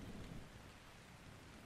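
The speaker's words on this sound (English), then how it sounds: "It's just a bit of a storm." Steady rain hiss with low rumbling thunder from a thunderstorm in the ARK Scorched Earth video game, filling the whole stretch as a continuous wash with a deeper rumble near the start.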